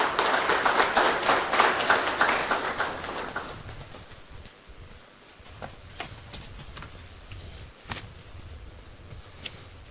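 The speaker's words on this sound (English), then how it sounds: "Please let's give him a round of applause as he comes in." An audience bursts into loud clapping for the Housing Minister's entrance at a breakfast meeting, a dense wash of applause for about four seconds that fades into scattered claps and occasional sharp taps in a quiet room.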